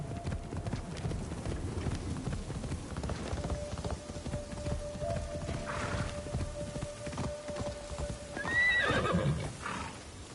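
Video game horse hooves clop steadily in a walking rhythm, then the horse gives a loud neigh near the end, in Assassin's Creed Shadows.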